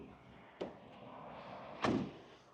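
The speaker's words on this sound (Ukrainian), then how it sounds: "Зараз відкрию. Дверка у нас фіксується" A Renault Trafic passenger van door opens with a short mechanical click, followed by a louder clunk and rattle as it slides or swings, against low background noise.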